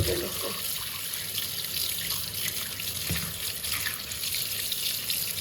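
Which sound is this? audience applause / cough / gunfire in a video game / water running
water running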